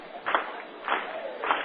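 A minor league baseball crowd at a Pioneer League championship game between the Great Falls White Sox and Orem Owlz gives a muffled, rising cheer hoping for a strikeout, swelling in three brief waves.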